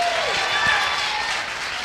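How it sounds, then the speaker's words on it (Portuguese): A church congregation applauds during a sermon, with a short, steady wash of clapping heard up close while a preacher's voice rises over it. "Se é para aplaudir, aplaude direito."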